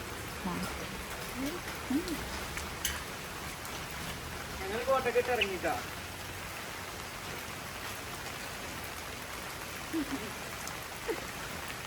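Steady rain hisses down continuously, with a few brief voices talking faintly beneath it.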